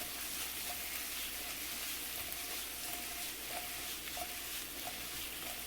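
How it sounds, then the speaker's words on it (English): Vegetables sizzle softly and steadily in a hot pan as they are tossed with a push-pull motion for spicy garlic shrimp and veggies, a quiet continuous hiss with no talking. "you just push it forward, pull the pan back, and it's going to mix everything around like this"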